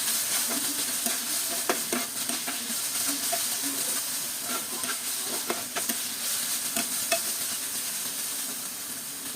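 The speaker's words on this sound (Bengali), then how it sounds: "এখন আবার কিছুক্ষণ নেড়ে চেড়ে এর মধ্যে ভেজে রাখা মাছগুলো দিয়ে নেব এবং মাছ ও মশলা একসাথে ভালোভাবে মিক্স করে নেব" Prawns fry with spices in a pan for a Bengali prawn bhuna, a steady close sizzle and hiss broken by scattered scraping knocks of a spoon stirring against the pan.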